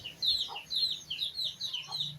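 Chickens cluck repeatedly at feeding time on an overcast day, a run of close, bright clucks in quick succession with a few lower calls between them, no talk.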